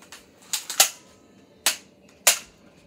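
Nerf blasters firing in a toy dart battle, several sharp pops spaced irregularly, a quick cluster of three near the start then two more single shots, close and crisp against a quiet room.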